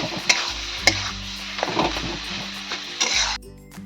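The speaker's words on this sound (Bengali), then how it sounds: "ভালো করে আমি এইভাবে মেখে নেবো খুন্তি দিয়ে।" A spatula stirs and presses a mash of young jackfruit with spices in a pan, giving soft scraping and squelching with a few sharp clinks against the metal, close and steady throughout.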